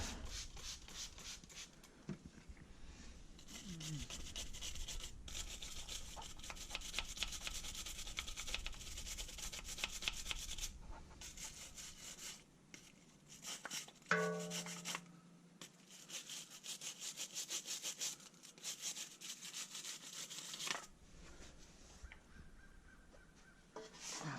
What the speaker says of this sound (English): you wipe it off with the rag